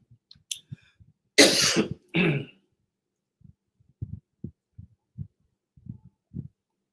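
Two loud, harsh coughs close to the mic, followed by soft scattered low thumps and murmurs.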